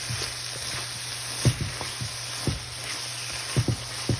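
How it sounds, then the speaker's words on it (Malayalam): Beef tripe fries in a pan, steady low sizzle with irregular scraping knocks of a spoon stirring it, fairly quiet and close. "അപ്പോൾ നമ്മൾ ഇതുപോലെ നന്നായിട്ട് കണ്ടിന്യൂസ് ആയിട്ട് ഇളക്കി നല്ലതുപോലെ ഫ്രൈ ആക്കി എടുക്കണം"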